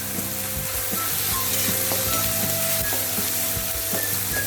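Masala with about a spoonful of red chilli powder fries in a pan for an onion- and garlic-free khichdi dish, producing a constant loud, close sizzle with soft stirring scrapes and no talk.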